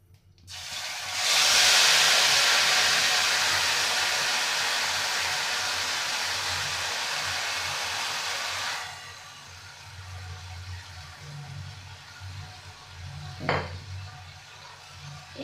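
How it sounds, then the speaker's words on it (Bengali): Mashed banana flower goes into hot oil with spices in a pan, setting off a loud, sustained hiss that fades and then drops away sharply. A quieter low sizzle follows with a single metallic clink of a stirring utensil. "আস্তে আস্তে আমি মোটাটাকে নেড়ে চেড়ে ভাজতে থাকবো"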